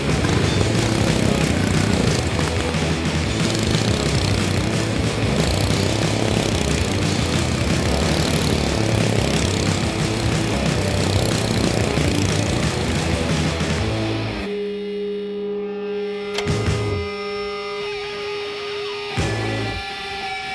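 A small mini bike engine runs close by with a loud, steady buzzing drone, then drops to a rough, lower idle with a few sputters near the end.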